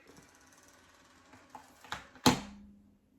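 A label printer whirs and clicks through a short print job, small mechanical ticks building to a sharp final clack as the tape feeds out, quiet and close with no talking.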